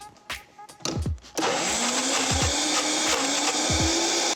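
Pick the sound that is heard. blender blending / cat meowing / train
blender blending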